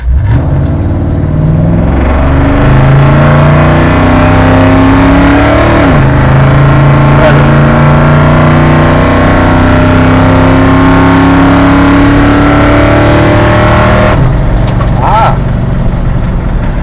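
A 1973 Plymouth Valiant Scamp Swinger's engine roars loudly up through the gears, pitch climbing and dropping at each shift, carburetor secondaries sticking, with a voice briefly audible under it.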